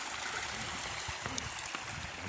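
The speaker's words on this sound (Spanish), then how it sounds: "Mira, compa, cómo corre el agua aquí, aquí en la sierrita." Rain-fed water runs in a mountain stream, a steady close rushing and gurgling with small splashes throughout.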